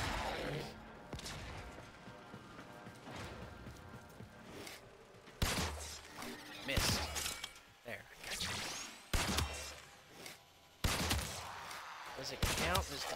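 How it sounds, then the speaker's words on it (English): Gunfire in the video game Warframe, dense bursts of shots and crashing impacts in rapid clusters, loud and chaotic, with whooshes and mechanical clatter between them. "I'm shooting that guy!"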